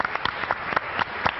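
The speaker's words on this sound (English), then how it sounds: "one more round of applause for Deja" A few scattered handclaps rather than full applause follow a startup pitch by Deja at a Startup Battlefield session, sparse individual claps spaced across a short, fairly quiet moment.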